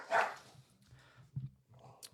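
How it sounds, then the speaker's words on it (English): A dog barks a few times at a distance, faint and muffled, in short separated bursts over a low indoor hum. "I'm sorry, by the way, if you hear a dog barking."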